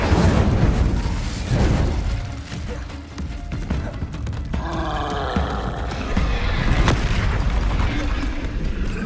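A blasting Incendio fire spell in the video game Hogwarts Legacy, a loud continuous roaring whoosh and boom layered with combat noise, with a brief dip partway through.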